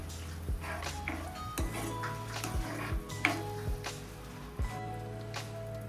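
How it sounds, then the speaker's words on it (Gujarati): Buttermilk being stirred into spiced vegetable curry in a pot for Kathiyawadi dhokli shaak. A spoon scrapes and knocks against the pot in irregular close clinks over a low steady hum, with no talk. "સારી રીતે હલાવી લઈશું"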